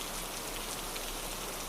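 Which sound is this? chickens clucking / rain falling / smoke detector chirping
rain falling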